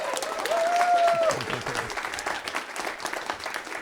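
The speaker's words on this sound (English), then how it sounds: "Let's hear a little round of applause for our candidates today." A debate audience applauds the gubernatorial candidates, a steady wash of clapping from a large crowd, with a brief whistle or tone near the start before the applause tapers slightly.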